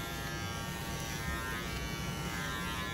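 An electric hair clipper buzzes steadily and close up while cutting hair in a classic barber's haircut, a constant even motor drone with no talk over it.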